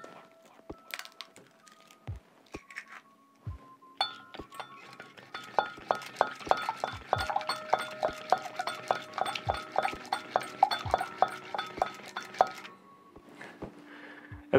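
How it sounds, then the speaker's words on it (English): A meat chopper tool used as a whisk beats in a bowl, giving a fast run of clinking, tapping strokes that grows busier and louder before stopping, with a few sharper knocks alone at the start and end. "I think it's worth seeing how well this performs under its intended use as a whisk"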